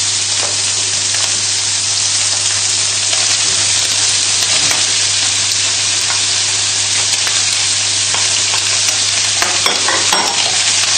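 Mushrooms and garlic fry in oil in a pan while being stirred, a loud, steady sizzle running throughout with scraping stir strokes on top and no talking.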